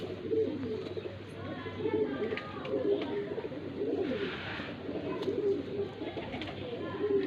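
Newly bought teddy pigeons cooing in low, rolling calls that repeat throughout, close by, with some faint background noise.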